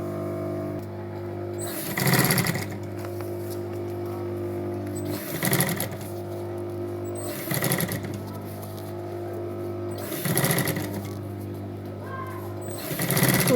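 A sewing machine stitches pieces of a school backpack together, a steady mechanical hum running throughout with four louder bursts of rapid stitching at regular intervals, close and clear with no talking.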